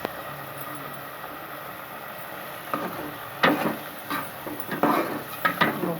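A spoon stirs coriander, garlic, crushed chili and green chili into kaleji in a cooking pot. A low background hum runs throughout, and irregular metallic scrapes and clinks come in during the second half.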